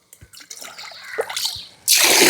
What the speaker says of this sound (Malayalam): ആ ഒരു വെള്ളം കൂടെ നമുക്ക് ഇതിനകത്തേക്ക് കോരിക്കോരി ഒഴിക്കാം